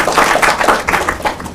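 Audience clapping at a junior high school quiz competition between Burma Camp and Bethel A.M.E. Zion schools, a short burst of close, dense hand claps with uneven rhythm.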